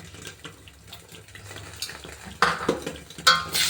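A spoon scrapes and stirs chopped green chillies, chilli and salt in a pan for an egg and potato dish, with soft sizzling and a few louder clanks of utensil on metal near the end.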